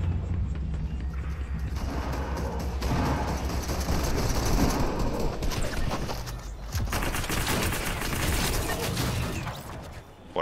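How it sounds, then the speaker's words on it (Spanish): Gunfire in the Fortnite video game rattles on almost continuously in dense bursts of rapid shots, loud and close, with occasional heavier booms mixed in. "vamos a dedicarnos a disparar más"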